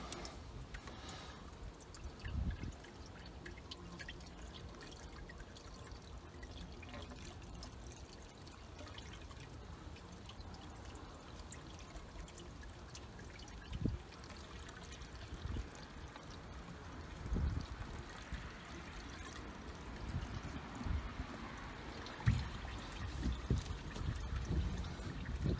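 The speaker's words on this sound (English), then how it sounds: "I got water flushing all the way through the lower" Water flushes and trickles out of an OMC 140hp 2.5L inboard boat engine during winterizing, a faint, steady pouring and dripping with occasional louder splashes and knocks, alone.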